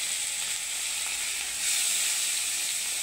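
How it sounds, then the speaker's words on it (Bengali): Whole cumin, black cumin, onion paste and garlic paste frying in oil in a pan, giving a steady, close, bright sizzle and hiss that grows slightly louder partway through, with no talking. "এটাকে একটু আমি লাল করে ভেজে নেব"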